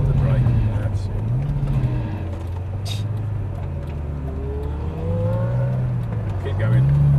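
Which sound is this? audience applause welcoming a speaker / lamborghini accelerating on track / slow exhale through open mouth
lamborghini accelerating on track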